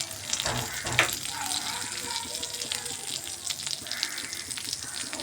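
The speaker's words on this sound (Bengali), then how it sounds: "গরম হয়ে গেছে তেল দিয়ে দেবো জিরে ফোড়ন দেবো আর শুকনো লঙ্কা দেব" Cumin seeds and dried red chillies crackle in hot oil for a dal tempering, a close continuous sizzle with splashy, watery hiss and a sharp pop near the start.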